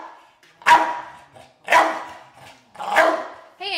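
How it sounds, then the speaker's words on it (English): Three loud, evenly spaced barks close up from a dog in a crate, with a short whine at the end. "he will go on with this level of barking for 2 hours"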